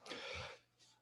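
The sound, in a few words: cough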